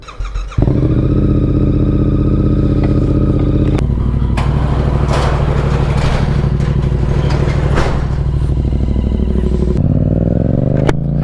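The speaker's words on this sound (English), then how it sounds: "let's get some heat in this engine" A GSX-R motorcycle engine warming up, idling loudly and steadily close by, a deep throbbing hum with brief throttle blips near the end.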